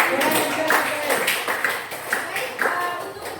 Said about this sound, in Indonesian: tepuk tangan untuk teman saya